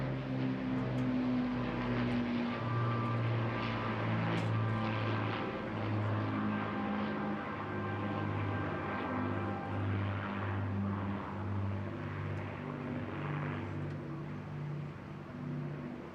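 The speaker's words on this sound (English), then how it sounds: "Final pass for the Battle Brit Memorial Flight" A Lancaster bomber, a four-engined propeller aircraft, makes a final pass at the Bournemouth Air Festival, its steady droning engine roar sustained and fairly distant throughout.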